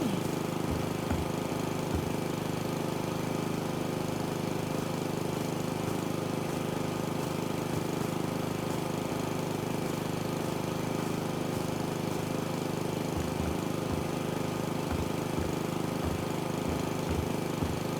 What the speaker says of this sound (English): Didn't care about me mowing back here, but we're gonna do it anyway.